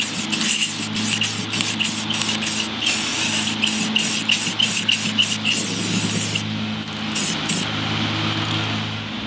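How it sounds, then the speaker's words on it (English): Repeated short hissing bursts from an aerosol spray can laying clear coat onto a car wheel, rhythmic pulses over a steady background hum, then a pause and a few final sprays. "spray down 3 coats of clear coat over top of all of this"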